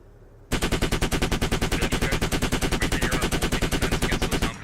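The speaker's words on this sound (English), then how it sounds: "There's a machine gun nest watching this area." Sustained automatic machine gun fire in the military shooter game Squad, a rapid, steady burst of loud, evenly spaced shots that starts abruptly and continues for several seconds without talk.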